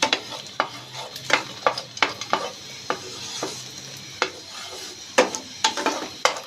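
Peanuts frying over a low flame in a pan for shahi zarda, with a quiet sizzle beneath frequent sharp, rhythmic scrapes and clacks of a stirring spoon, close and clear.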